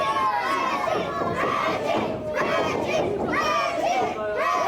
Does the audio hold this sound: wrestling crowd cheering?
yes